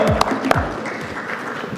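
A panel discussion audience applauds the moderator, Dipu ji, in brief scattered clapping with a couple of sharp close claps at the start, quickly thinning out.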